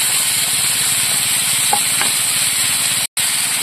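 Green chillies frying in a pan with oil, a constant bright sizzling hiss close to the microphone, with faint stirring scrapes and a momentary break near the end; no voices.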